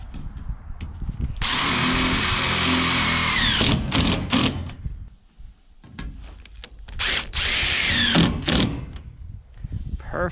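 Power drill driving screws into roof trim outdoors, in two long loud whirring bursts with short tool clatters and knocks between them, close by with no talk.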